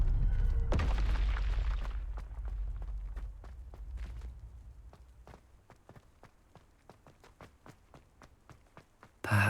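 A Confringo blasting spell bursts with a loud broadband boom in the Hogwarts Legacy video game, its rumble fading over a couple of seconds, followed by a steady run of footsteps and a sharp thump at the end.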